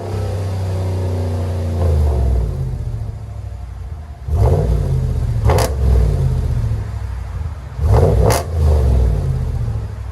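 A loud, deep 5.7L Hemi V8 of a 2020 Ram Rebel pickup with muffler delete idles with a throaty rumble, then blips hard in two sharp revs that snap back down to a raspy idle, close by.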